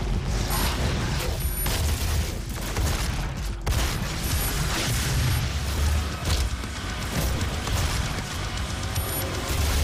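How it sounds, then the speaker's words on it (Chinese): Gunfire in the Doom video game: loud, dense bursts of shots and booming blasts repeat across the whole stretch, with mechanical clanks and no talk. "这个舒爽的枪声"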